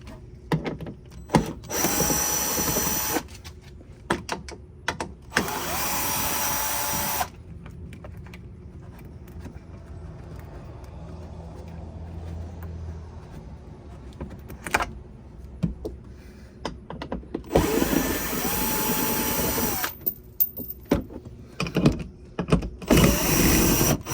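A power tool whirs in several loud bursts separated by quieter pauses, spinning out 10mm bolts, with faint handling clatter between the runs.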